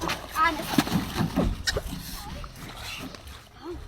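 A grown man is dropped into water, with loud splashing and sloshing near the start among voices talking, then quieter water movement.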